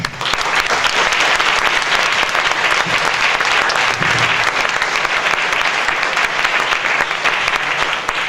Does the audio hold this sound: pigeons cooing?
no